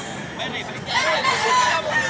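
A Doctor Blues gamefowl rooster crows once at close range in Cebu, loud and drawn out, with people talking nearby underneath.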